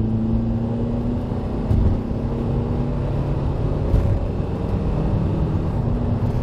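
A Honda car with an automatic transmission moving off on a test drive, shifting through the low gears, heard as a steady engine hum and road rumble from inside the cabin, with small bumps and shifts in tone.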